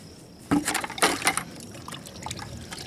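A 1911 pistol is plunged into a bucket of water, making a sudden close splash and a few sloshing gurgles, then a quieter trickle as the water settles.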